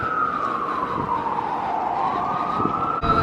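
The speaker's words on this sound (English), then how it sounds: "the lovely sounds of sirens" Emergency vehicle siren wails through New York City streets, a sustained tone sliding slowly downward over continuous traffic and city rumble, moderately distant, no talking.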